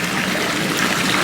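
Air hose with a pinhole blowing a steady stream of bubbles underwater, giving a continuous, close, busy bubbling and gurgling wash with no pauses.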